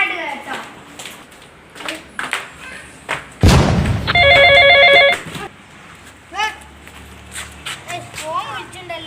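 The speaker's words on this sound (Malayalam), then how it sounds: "ഫോൺ വിളിച്ചിട്ടുണ്ടല്ലോ" A telephone rings in a short patterned burst of about a second, preceded by a heavy thump, with talking and household movement around it.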